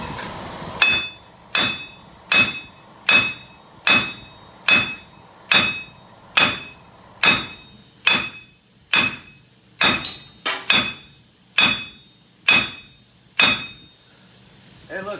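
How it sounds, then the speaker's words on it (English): Hard metallic hammer blows on a 2002-2009 Chevy Silverado wheel hub assembly ring out one after another, about one per second, loud and close, with a bright clanging ring after each strike. "Instead of an air chisel, I'm just going to use a hammer."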